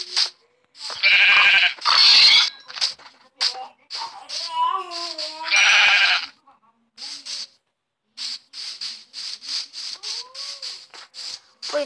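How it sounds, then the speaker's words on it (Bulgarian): Many sheep bleat in a Minecraft game in short, overlapping cries, some loud and near, others lighter, with a high chirpy call mixed in between the bleats. "Ой, колко много овце."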